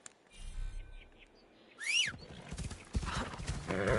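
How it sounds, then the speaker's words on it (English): A horse whinnies with a little echo in Assassin's Creed Shadows, a rising then falling neigh, followed by hoof clip-clops and game ambience. "little echo for the horse whinny."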